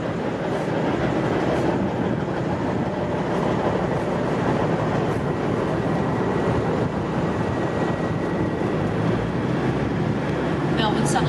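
V/Line diesel locomotive-hauled train pulls out of Geelong station on a Melbourne Southern Cross service, a heavy continuous engine drone with rolling wheel noise on the rails, close and loud throughout.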